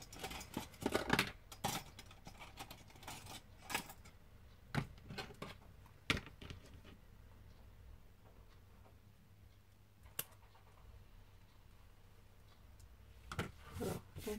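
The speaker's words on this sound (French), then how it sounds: "Alors, je vais prendre mon petit ciseau." Small scissors snip in a few scattered, crisp bursts, close and fairly quiet, clustered at the start and end with quiet gaps between.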